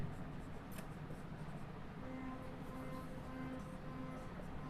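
Chalk or marker scratching across a board while a geometry proof is written out for a class 10 lesson, soft continuous strokes at close range with a steady low hum underneath and no talking.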